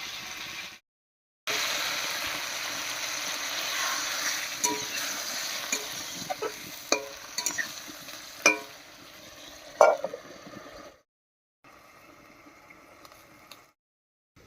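Man kochu (giant taro) sizzles with spices in a pan. A steady frying hiss is cut by sharp scrapes and clinks as the mixture is stirred, and the sound fades out briefly at two points.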